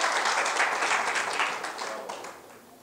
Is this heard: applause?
yes